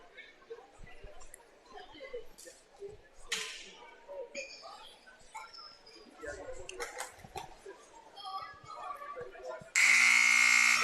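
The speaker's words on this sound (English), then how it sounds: "that buzzer is real loud" Voices and a muffled crowd murmur in a gym during a senior girls' basketball game carry on until a loud, harsh buzzer blares at the end and holds steady, drowning out everything else.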